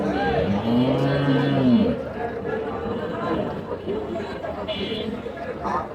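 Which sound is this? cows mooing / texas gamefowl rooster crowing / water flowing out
cows mooing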